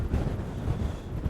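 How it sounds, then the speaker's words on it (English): Strong wind gusts buffet the microphone at ancient ruins around sunset, a rough, blustery rumble that rises and falls over the short stretch. "But very windy."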